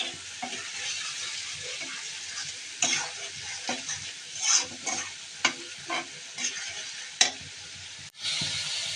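Spice paste being stir-fried in a pan for a khichuri and meat dish, with a steady soft sizzle broken by scraping spatula strokes and occasional sharp clinks against the pan, close and fairly quiet.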